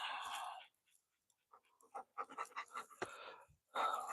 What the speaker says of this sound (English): It is a bunch of dogs, yeah.